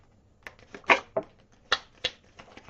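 Tarot cards drawn and shuffled by hand, giving a handful of short, crisp papery flicks and snaps spaced irregularly, close and fairly quiet with no talking.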